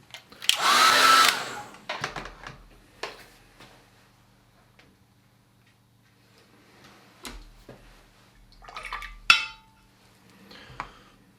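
Hair dryer blowing on a wet-in-wet watercolour landscape painting, a loud steady whoosh for about a second, followed by scattered light clicks and taps of brushes and objects on a table.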